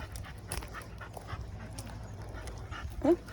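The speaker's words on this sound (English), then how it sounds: "Dog right here." A herding dog pants close by during training, with quick soft breaths over a steady outdoor background and a short whimpering yip near the end.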